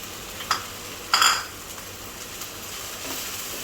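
Bendakaya fry with fresh coconut being stirred in a pan, a couple of brief clinks and scrapes of a utensil against the pan over a low steady background, otherwise quiet.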